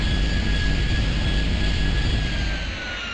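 A military jet aircraft in a video game roars in a loud, steady engine drone that stays constant before easing slightly at the end, with no talking.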